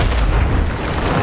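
A grenade blast in the shooter game Badlanders, a loud, dense boom with a heavy low rumble that holds steady for about a second, with no talk over it.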